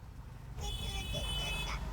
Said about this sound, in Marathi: ट्रॅफिक आहे बेटा, ट्रॅफिक.